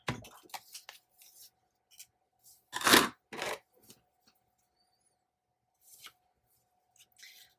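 Scissors fussy cutting around a paper planner sticker, sparse close snips and crisp paper rustles in short bursts, with a louder cluster of cuts midway and quiet gaps between.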